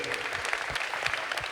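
Audience applause at the final of a music project, a brief burst of clapping with distinct individual claps over a steady crowd wash.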